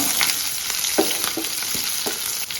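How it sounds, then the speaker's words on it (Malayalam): Chopped green chillies and garlic frying in oil, a constant loud sizzle with several light spatula strokes scraping the pan, close up and with no voices. "അതിനകത്തേക്ക് അരിഞ്ഞു വെച്ച പച്ചമുളകും വെളുത്തുള്ളിയും കൂടി ഇട്ട് കൊടുക്കുകയാണ് എന്നിട്ട് ഒന്ന് ലൈറ്റായിട്ട് ഇളക്കി കൊടുക്കുക"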